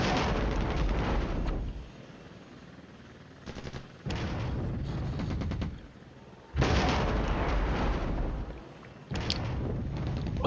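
Airstrike explosions on a road in the war strategy game Flashpoint Campaigns: Red Storm come as several heavy rumbling blasts in separate loud bursts, with quieter gaps between them.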